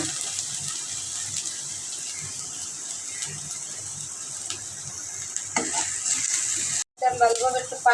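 Ground spices such as garam masala, coriander, cumin and turmeric sizzle with garlic in a pan, a steady close frying hiss with stirring and scraping, then a short break followed by a brief splash of added water.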